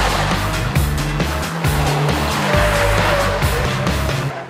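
A Renaultsport Clio's engine revs hard under acceleration, loud and close, with rapid upshifts cutting the rising drone into repeated stepped pulls and a little tyre noise.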